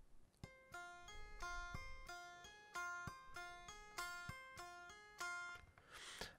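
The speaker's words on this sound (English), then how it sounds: "I'm going to have to use my unplugged electric guitar close to the mic" A tapping line on an unplugged electric guitar, picked up close to the mic, repeats a bright run of clear plucked notes several times in a steady rhythm with no talking.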